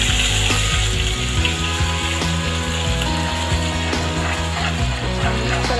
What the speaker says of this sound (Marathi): मसाला छान व्यवस्थित फ्राय करून घ्यायचा आहे